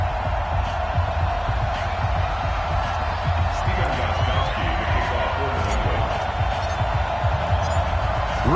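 A stadium crowd roars continuously in a Madden football video game, a dense steady wash of cheering noise throughout, with a commentator's voice under it.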